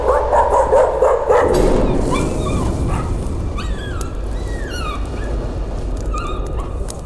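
A ghostly dog in the horror game Layers of Fear yelps and whimpers in high, bending cries over a steady dark ambient drone, with no talk.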